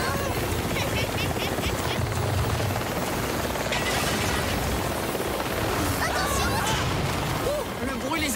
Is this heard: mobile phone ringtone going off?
no